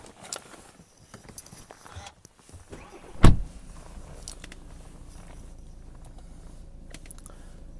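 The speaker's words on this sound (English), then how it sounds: "I'll also give the car a little start up for you." A red BMW 320d diesel starts: a sharp crank burst, then the engine settles into a low, steady idle rumble heard from nearby, with faint cabin clicks before it and no talking.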